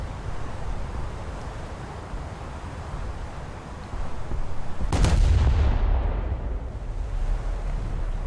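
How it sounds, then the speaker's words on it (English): A US cruiser's gunners open fire in a naval video game battle, a sharp heavy artillery blast around the midpoint followed by a rumbling decay over a steady engine and sea hiss. "I'm going to put my gunners on all targets"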